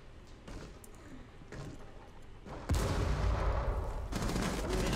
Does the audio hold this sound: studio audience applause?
no